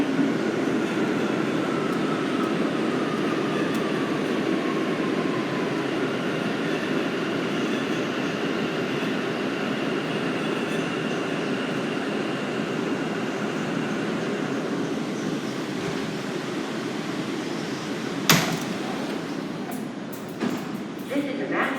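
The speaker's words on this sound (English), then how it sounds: "This is a Manhattan-bound C local train." A Manhattan-bound R179 C local subway train at Broadway Junction station rumbles steadily for about twenty seconds, with a faint high squeal and sharp metallic clanks near the end, and indistinct speech under the rail noise.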